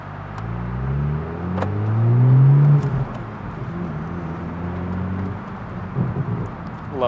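Toyota Supra A91-MT in sport mode accelerates with a steady, rising engine drone that swells to a louder peak mid-way before settling into a sustained cruising hum, heard from close by with no talk.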